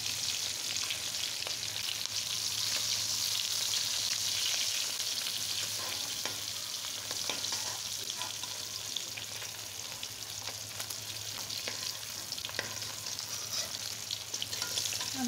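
Hilsa fish pieces frying in oil, a steady close sizzle with fine crackling and occasional stirring or turning sounds, continuous and even for the whole stretch with no voices.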